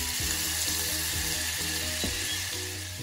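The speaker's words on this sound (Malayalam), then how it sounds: "ഇവിടെ ഞാൻ പാന് ചൂടാവാൻ വെച്ചിട്ടുണ്ട്. അതിലേക്ക് നമുക്ക് ബട്ടർ ആഡ് ചെയ്യാം." Butter melting in a heated pan for a creamy white sauce, giving a constant close sizzling hiss with faint bubbling pops throughout, no voices.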